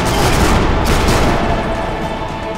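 Dense, loud gunfire bursts in the World War II sniper video game Sniper Elite V2, rapid overlapping shots and booms filling a short stretch with no talking.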